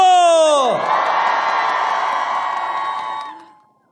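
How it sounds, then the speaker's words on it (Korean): A crowd at a Democratic Party political rally breaks into loud, sustained cheering, whooping and applause right after one voice calls out, the roar holding steady before fading away at the end. "이현주 의원님 위해서 박수!"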